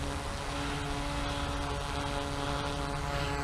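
A DJI F450 heavy-lift quadcopter drone in flight at a bit above half throttle, its propellers giving a loud, steady, close buzzing drone with even tonal hum throughout, no talk.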